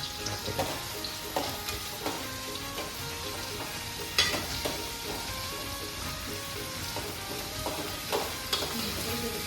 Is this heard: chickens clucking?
no